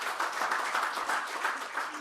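Audience applause at a 2023 conference session, dense steady clapping from a room of attendees lasting about two seconds, fairly loud and continuous with no talking over it.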